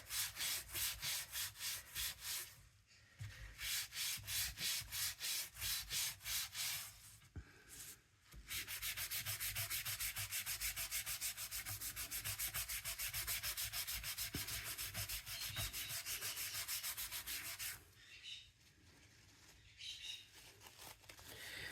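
Sizzix oil pastels rub on paper, first in quick rhythmic back-and-forth strokes, then in a long continuous scrubbing passage, then in shorter strokes again. The sound is close and faint, with no talking.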